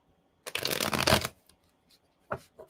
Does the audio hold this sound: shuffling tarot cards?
yes